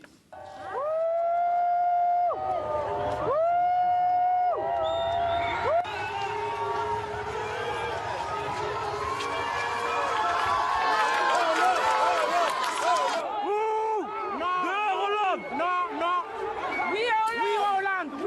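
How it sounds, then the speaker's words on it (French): Large outdoor crowd booing and jeering at a visit by French president François Hollande, with scattered applause, whistles and shouts mixed in, loud and sustained throughout, voices calling out over the din. "quelques applaudissements quand même, enfin surtout des huées"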